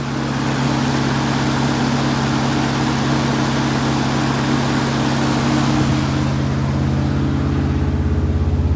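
A freshly started engine, running for the first time, holds a steady high idle throughout, a loud continuous drone with constant harmonics and no voices.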